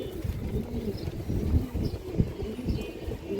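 A pair of khaki pigeons coo softly in a loft, low murmuring calls repeating irregularly with some rustling and shuffling nearby, no talking.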